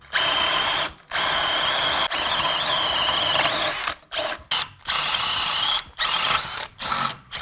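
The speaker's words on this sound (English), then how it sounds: "So let me just get my holes drilled first." A power drill whirs loudly in long sustained bursts, stopping and restarting several times, with shorter spurts toward the end; close by, no talking.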